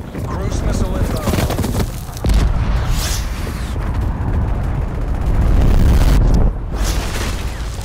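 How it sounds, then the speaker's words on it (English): Heavy rumbling booms and blasts from a cruise missile strike in Call of Duty: Black Ops Cold War roll through a dense, loud game mix with voice callouts over the top. "Cruise missile inbound."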